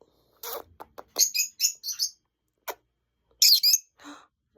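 A small lovebird gives a series of loud, sharp chirps and squawks in quick bursts with short pauses between, close by and alone.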